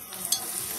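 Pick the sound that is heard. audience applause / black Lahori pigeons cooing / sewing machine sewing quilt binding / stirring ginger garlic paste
stirring ginger garlic paste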